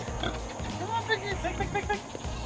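Pigs squeal and grunt in short, overlapping bursts of varied pitch at moderate distance, mixed with background murmur and a person's voice.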